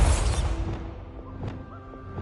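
A Bombarda spell goes off in the video game Hogwarts Legacy as a loud, booming blast that rises sharply at the start, then gives way to a swirling, whooshing tail with a couple of fainter bursts near the end.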